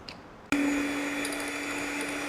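An electric hand mixer whips frosty chocolate cream flavoured with vanilla. It switches on abruptly and settles into a steady, close whirring drone, with no talking.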